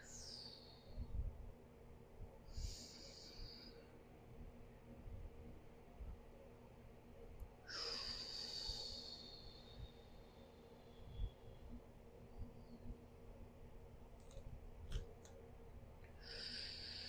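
Slow, soft breaths drawn in and out during a side split pancake stretch, faint and close, with a few louder exhales standing out over a quiet room hum.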